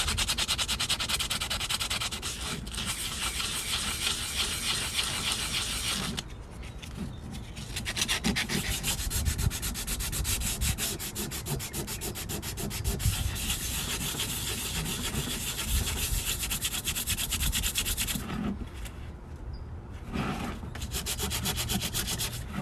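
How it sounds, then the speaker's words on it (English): Sandpaper rubbed by hand over a TH350 transmission part to smooth it, a steady close-up scraping and rubbing that runs continuously with brief pauses, with no talking. "Go ahead and use some sandpaper. Gonna smoothen that down."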